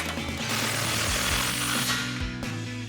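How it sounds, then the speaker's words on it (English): An impact wrench with a 21mm socket tightens a tie rod nut on a Ford F-150's front suspension, giving a loud, close, continuous rattling hammer that runs through the whole moment with only slight changes in pitch. "grab our impact and 21mm socket and tighten that down"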